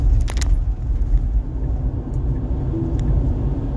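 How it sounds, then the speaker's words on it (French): A Tesla driving on Full Self-Driving accelerates by itself, producing a steady low rumble of road and motor noise inside the cabin. A few faint clicks sit on top of the rumble. "C'est pas moi, là, c'est la voiture qui accélère."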